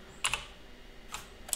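Computer keys pressed in a few quick, sharp clicks while a player starts Undertale for the first time, a pair of taps, a pause, then two more isolated presses, close and fairly quiet with no talk.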